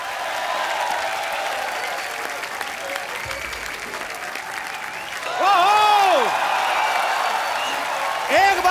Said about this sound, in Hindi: एक बार दलेर बाजी का और मीका बाजी का जोरदार तालियों से स्वागत